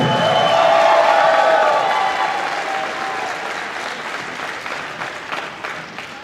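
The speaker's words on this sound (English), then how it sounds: "while you're making some noise, let's keep that applause going" An audience at an election pep rally in Reading, Pennsylvania applauds and cheers for Reading High basketball cheerleaders. Loud crowd clapping with a few whoops swells early, then slowly fades.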